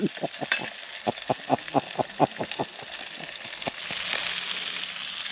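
Sausages sizzling on a camping stove in a woodland camp, with a series of rhythmic crackles and pops, then a steadier soft hiss of frying near the end, close and moderately quiet.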